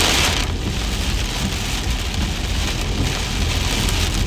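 Steady, dense rain drumming on a storm chaser's car during a Kansas chase, a constant broadband patter that stays loud and unbroken throughout with no voices.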